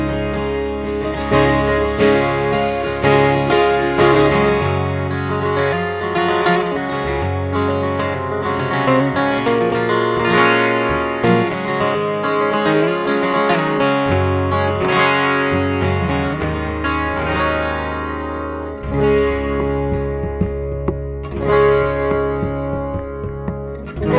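Acoustic guitar played through a SkySonic Pro 1 soundhole pickup, a full, steady strummed and picked passage with rich low end, continuous and loud throughout.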